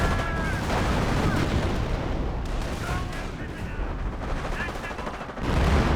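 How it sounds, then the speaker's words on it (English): Artillery shells pound a machine gun bunker in the World War II strategy game Company of Heroes, producing a continuous dense barrage of blasts and crackling gunfire with rumbling impacts, loud and steady throughout, with game voices mixed in. "Now got artillery hitting the machine gun bunker"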